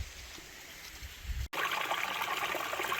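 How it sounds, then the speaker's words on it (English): Waterfall beside an off-road trail, a steady rushing wash of falling water, quieter at first and then louder and fuller after a brief cut. "like this waterfall."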